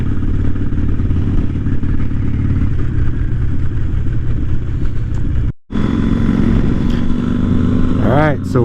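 A BMW 750 motorcycle being ridden, its engine droning loud and steady close to the microphone with wind noise, cutting out for a moment before resuming.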